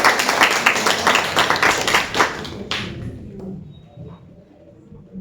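Loud applause from a college audience at a Women's Day celebration at DAV Centenary College, dense clapping for about two and a half seconds before tapering off into a quieter room.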